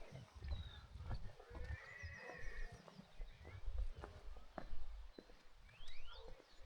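Horses neighing and whinnying in hilltop horse country near stables, with scattered clip-clop of hooves and birds in the background, fairly distant and faint over outdoor ambience.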